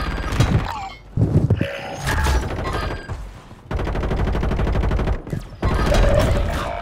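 A ray gun fires in Call of Duty Warzone 3, loud repeated bursts of rapid shots broken by short pauses, close and dominant with no talking.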